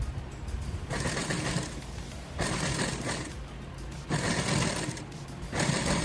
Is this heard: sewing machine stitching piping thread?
yes